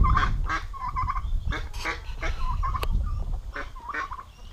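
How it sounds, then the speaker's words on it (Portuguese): Turkeys and other farmyard fowl squabble in a yard, with repeated gobbles, honks and agitated clucking close by, several birds calling over one another in bursts. "E os perus chegam pra peitar tudo, né?"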